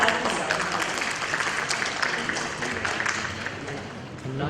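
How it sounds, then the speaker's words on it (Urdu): An audience at a literary tribute gathering claps steadily as a professor is welcomed to the stage, a dense, even patter of hands throughout. "آپ کی بھرپور تالیوں میں پروفیسر"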